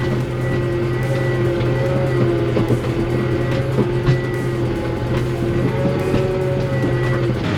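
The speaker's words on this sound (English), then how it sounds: "having a bit of a drive in the tractor there" A tractor drives at FarmCon in Austria, its engine running as a steady, continuous drone with a constant hum and occasional small rattles and bumps throughout, fairly loud and close with no talk over it.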